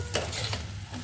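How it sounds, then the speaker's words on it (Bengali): Brief close-up sizzle in a hot pan with a few quick stirring scrapes as noodles are stir-fried and tossed. "এখানে আমি নাড়াচাড়া করে নিয়ে ওকে ভাজা ভাজা করে নিব"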